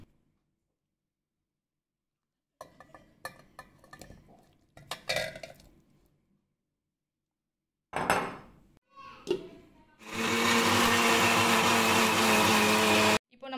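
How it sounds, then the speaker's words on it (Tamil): Mixer grinder blending chunks of mango in a home kitchen jar, with a few short rattling bursts and then a loud, steady whirring run of several seconds near the mic. "இப்போ இதை வந்து நம்ம மிக்ஸி ஜாரில் போட்டு அரைச்சிக்கலாம்."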